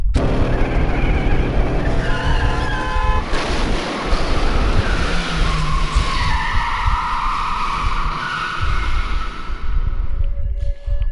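A car skidding into oncoming traffic in Danganronpa, a loud, long tire screech with roaring engine and rushing noise building over several seconds before cutting off abruptly.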